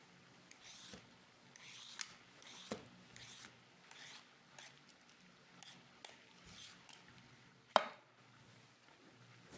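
Half a cucumber being sliced very thin with a knife on a cutting board, a quiet series of soft, evenly spaced cuts and light taps, with one sharper knock near the end.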